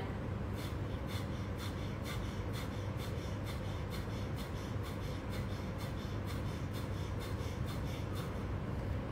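Rapid forceful exhalations through the nostrils in yoga breathing practice, a quick even series of sharp nasal puffs repeating steadily and close throughout.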